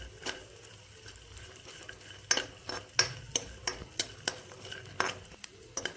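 Dry fruits frying in ghee are stirred with a metal spoon, giving a steady run of sharp scrapes and clinks against the pan over a soft sizzle, with no talking.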